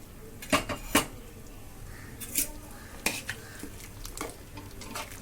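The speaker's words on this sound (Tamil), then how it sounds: "இப்போ நம்ம வெந்த பருப்பை ஊற்ற வேண்டியது தான்." A metal ladle scrapes and clanks against a pot as cooked dal is poured into simmering sambar and stirred, giving a few sharp knocks over a steady low background.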